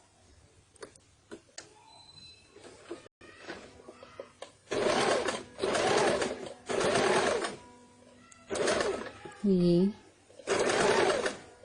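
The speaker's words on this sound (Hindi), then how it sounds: "चलिए स्टिच लेते हुए आप देखिए" A sewing machine stitches baby shirt fabric in several loud, steady whirring runs separated by pauses, with someone talking quietly between the bursts.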